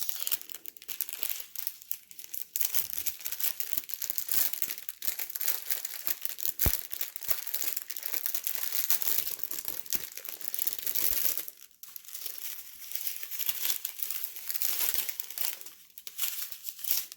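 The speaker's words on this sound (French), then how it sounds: "Je vais ouvrir les diamants et vous les présenter." Plastic packets of diamond painting rhinestones being opened and handled, a long stretch of close, busy crinkling and rustling with brief tearing bursts and pauses, and no talking.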